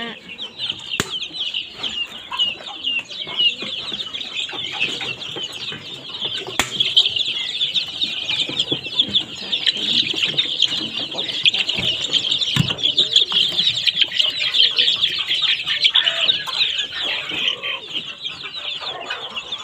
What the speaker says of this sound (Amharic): ዶሮ እርባታ